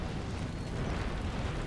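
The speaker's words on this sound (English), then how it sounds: "Did they get hit by another mine explosion?" A dense, rumbling blast fills the whole clip, a sustained loud roar with no breaks, from a mine explosion during a French siege of Athens in the strategy game Empire: Total War.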